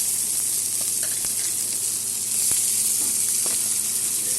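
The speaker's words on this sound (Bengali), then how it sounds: "আর এখন আমি পেঁয়াজটা আর টমেটোটা ভেজে নেব" Onions, two medium ones with tomato, fry in a pan for Bengali egg bhapa, producing a continuous close hissing sizzle with a few faint crackles and light stirring touches, and no voices.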